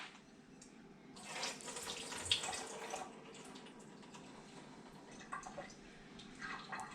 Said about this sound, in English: I'm going to drain the liquid out now.